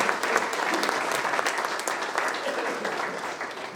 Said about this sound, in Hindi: शिवांश राठी भाई भी हमारे बीच में पहुंचे, एक बार जोर से ताली बजाएंगे।